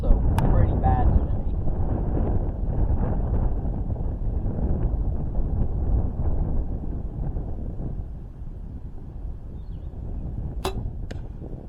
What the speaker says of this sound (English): The wind is also pretty bad today.